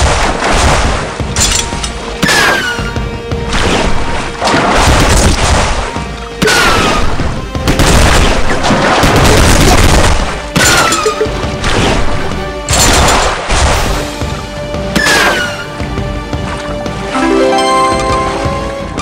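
Heavy machine gun fire in the Ramboat action game, with loud repeated bursts of rapid shots and booming impacts in a steady, near-continuous barrage.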